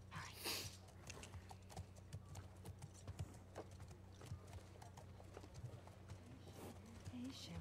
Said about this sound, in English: Good horsey. Who's a good horse?